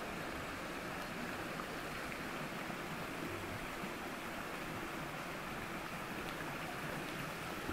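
Water flowing steadily at a stone village washhouse, a constant broadband rush like a small stream pouring nearby, continuous and even throughout with no voices.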